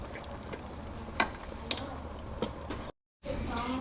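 Cooked brown rice stirred in a pot with a spoon, giving soft scraping and a few sharper clacks over a steady hiss, with a brief dropout near the end.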